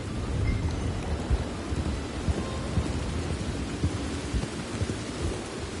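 Steady rain with rumbling thunder in the video game Red Dead Redemption 2, a continuous, fairly quiet downpour with low rolls of thunder and no voices.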